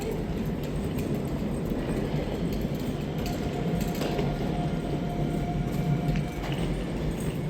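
Steady rumble and rattle of a passenger train travelling between Tamworth and Blackpool North via Preston, heard from inside the carriage as a continuous loud interior noise with no talk.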